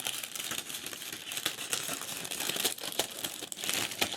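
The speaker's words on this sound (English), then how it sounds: "I'm going to cut this down in half to make it a flat layout" Scissors cut a sheet of paper in half, a steady stretch of crisp crinkly snipping and rustling at low-to-moderate volume, close by, with no talking.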